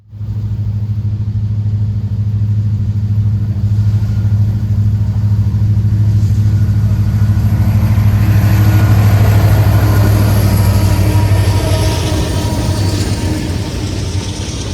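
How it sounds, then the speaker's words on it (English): Union Pacific 1982, the Missouri Pacific heritage diesel locomotive, passing with a loud, steady low engine drone and continuous rail rumble that build slightly, then ease. "In late October, we get UP 1982, the Missouri Pacific Heritage Locomotive."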